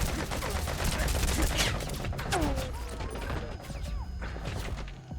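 Rapid tranquilizer gunfire in a video game, a dense, loud burst of shots mixed with crashes and thuds, with in-game whooshes and tones layered on top.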